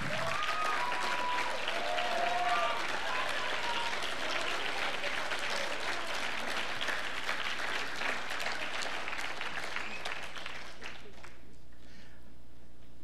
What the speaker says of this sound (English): You deserve a round of applause for raising the kids that you did.